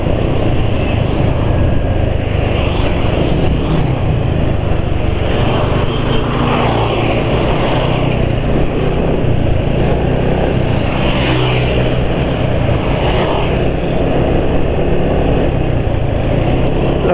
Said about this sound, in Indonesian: review suara mesin ketika jalan pelan.